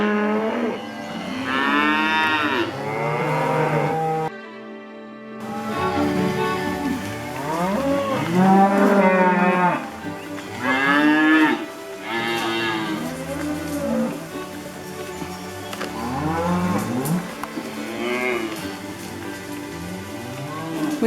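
A herd of about 100 cattle moos repeatedly and loudly on a drive to summer pasture, overlapping calls rising and falling near and far, with a rain-like patter underneath.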